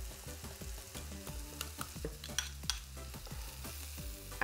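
Spices stirred into fresh vegetables frying in a pan, a constant close sizzle with repeated rhythmic scrapes and taps of the spoon, no talking.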